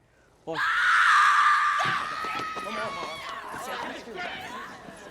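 A woman lets out a loud, sustained, high scream in a scene from Shutter Island; it cuts in abruptly, then gives way to agitated voices and scuffling chatter.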